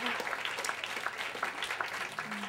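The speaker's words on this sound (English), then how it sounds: "how about an extra round of applause" An audience gives a round of applause after a performance, steady fairly soft clapping with scattered louder claps throughout.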